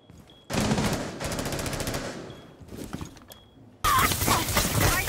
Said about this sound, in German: Maestro schießt auf mich